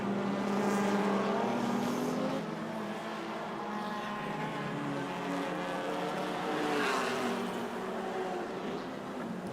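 Race cars roar along a circuit during a GP3R race, engines loud and sustained with a rising and falling pitch as the cars close on the timing stripe.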